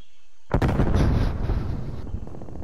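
A grenade detonates in Call of Duty: Black Ops Cold War, a sudden loud blast that hits hard, then rumbles and crackles away over the next couple of seconds, close and alone.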